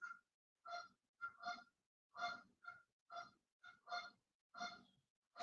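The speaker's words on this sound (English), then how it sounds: "Those are geese." Geese at a pond give a series of about ten loud, nasal honks in an irregular rhythm, close by, with short silent gaps between calls.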